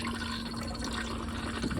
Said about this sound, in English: This button here is the flush for the toilet.